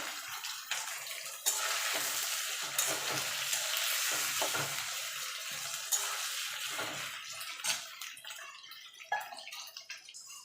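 Ground ginger and chopped tomato sizzle in a pan for a cabbage curry, a bright hissing fry punctuated by repeated stirring scrapes and clinks that fades somewhat toward the end.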